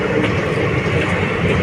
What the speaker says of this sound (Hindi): यशवंतपुर लखनऊ एक्सप्रेस